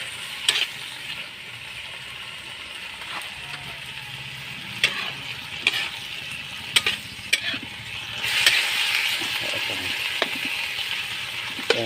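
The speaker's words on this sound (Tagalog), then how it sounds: "Yan guys, bagoong. Haluin natin ito." Pinakbet vegetables with bagoong shrimp paste stirred in a pan, with repeated sharp clacks and scrapes of a utensil against the pan over a low sizzle, the frying growing louder toward the end.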